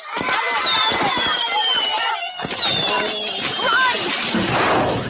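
Fireworks crackle and whistle in rapid bursts, with bright rising whines over loud popping and fizzing, close and continuous, as someone speaks over them.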